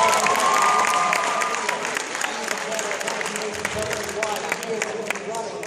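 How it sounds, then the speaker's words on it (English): An audience at a school hypnotism show claps and cheers loudly, applause tapering slightly while a voice talks over it. "give them all that nice big round of applause."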